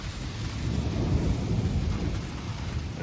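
Violent summer thunderstorm in Metz, a heavy low rumble of thunder rolling continuously over dense steady rain, loud and close with no voices.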